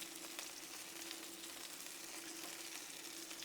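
Rye bread toasting in butter on a Blackstone griddle makes a faint, even sizzle with a soft, steady hiss and a low hum beneath it.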